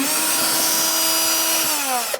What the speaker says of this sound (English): Using a Phillips head bit on my drill, we can take these 3 out.